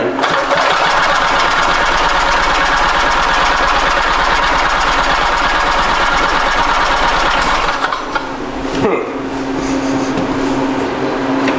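A barn-find Harley Davidson golf cart engine runs loud and close, with a rapid rattling, knocking beat for about eight seconds before it cuts out abruptly. A quieter hum follows.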